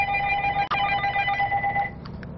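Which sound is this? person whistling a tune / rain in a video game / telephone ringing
telephone ringing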